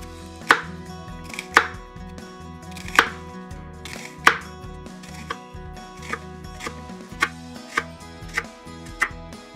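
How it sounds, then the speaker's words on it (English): Half an onion being chopped into small pieces with a knife on a board for beef stroganoff: about a dozen crisp, evenly spaced knife strikes, close and clear, with no talk. "take half an onion, your choice of onion, and cut it into small pieces"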